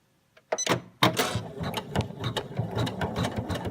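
A sewing machine runs placement stitches for a pony's noseband on fabric, starting with a few sharp mechanical clacks before settling into rapid close rattling stitching, alone without talk.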